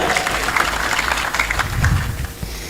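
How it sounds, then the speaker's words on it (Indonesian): A crowd applauds at a religious gathering right after a national anthem is sung, a steady wash of clapping with some low rumble and murmur underneath. "Tepuk tangan untuk Indonesia Raya."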